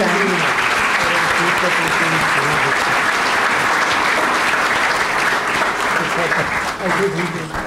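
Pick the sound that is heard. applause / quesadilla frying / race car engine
applause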